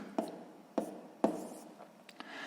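A pen writes on paper during a sixth-grade math exercise, with three distinct scratchy strokes close by, followed by a few lighter taps and a soft continuous scribble. The sound is quiet and there is no talk.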